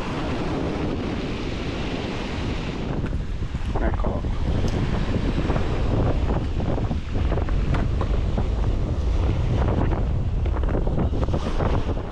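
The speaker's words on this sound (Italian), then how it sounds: "finalmente sta leggermente calando il vento" Strong wind at sea buffets the microphone aboard a small fishing boat while spinning inshore, a steady loud roar with water and hull noise beneath it and no clear talk.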